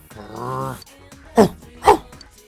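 A dog in the video game Persona 4 Golden gives a drawn-out whine followed by two sharp, loud barks spaced about half a second apart, clear and alone.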